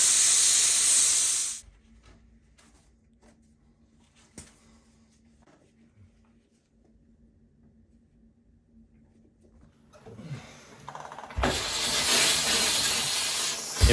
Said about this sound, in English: we're gonna get after it with this steamer here